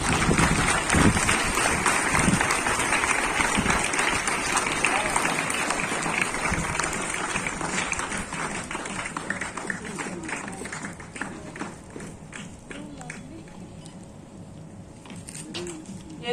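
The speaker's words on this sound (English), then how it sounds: "Them a big, huge round of applause." Audience clapping at a school Independence Day celebration, a broad sustained wash of many hands that stays fairly loud before thinning and fading toward the end.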